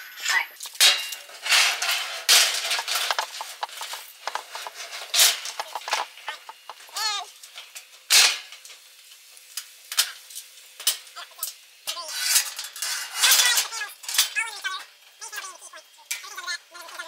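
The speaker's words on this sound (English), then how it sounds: "it's always fun to hit the top because it makes a lot of noise because it's steel" Repeated metallic bangs and clangs from striking the top of a steel gazebo with a powder-coated frame, loud and irregular over about seventeen seconds, with some voices and bird-like chirps in the background.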